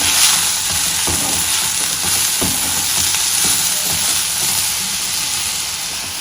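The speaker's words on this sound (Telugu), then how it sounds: "ఫ్రై చేస్తున్నాం కదా, దీంట్లో ఉప్పు కూడా వేసుకుంటున్నాను. ఉప్పు వేసుకొని ఒక్కసారి కలిపి" Green chillies with salt fry in a pan, giving a steady, loud, close sizzle and hiss with a few faint scraping knocks from stirring, and no talk.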